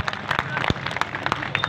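An audience at an election rally claps, giving a short burst of scattered, fairly close applause with a voice faintly underneath.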